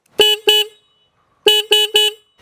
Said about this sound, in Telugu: దీంట్లో సింగిల్ హార్న్ అనేది ఇచ్చారు, అయినప్పటికీ హార్న్ అనేది లౌడ్ గా ఉందని చెప్పొచ్చు